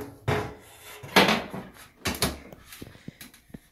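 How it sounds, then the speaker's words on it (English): Dryer door pried off during a drum glide repair, giving several sharp wooden-sounding knocks and clunks spread over a few seconds, fairly close and loud, with no talking. "Okay, so now I can just pry the door off."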